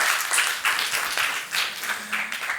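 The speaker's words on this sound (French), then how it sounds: "Ça s'applaudit, c'est beau la science quand même." A lecture audience applauds after a prism experiment in a science demonstration on light, with clustered bursts of clapping swelling and dipping in waves, fairly loud and close, with a faint voice murmuring underneath.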